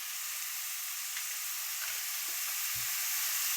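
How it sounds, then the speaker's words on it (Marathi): Potatoes sizzle steadily in hot oil, a continuous crackling hiss up close, with a few faint clinks underneath. "बटाटा जरा असं भाजूसपर्यंत, असा एक जीव होऊसपर्यंत, चांगलं तेलात पडतूसपर्यंत"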